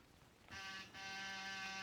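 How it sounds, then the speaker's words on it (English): An electric apartment door buzzer sounds twice, a short harsh buzz followed by a longer sustained one, steady and droning in a quiet room, in an old-time radio drama. "Then I rang his buzzer."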